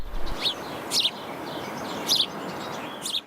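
Birds chirp at sunrise in a South Auckland suburb on a cold winter morning, a few short, high, distant calls spaced irregularly over a soft background hum.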